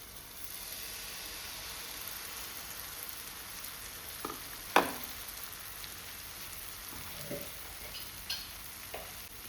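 Small banana pancakes fry in a pan over a medium flame, giving a soft continuous sizzle with a few sharp clinks and scrapes of a utensil, close and fairly quiet, with no talk.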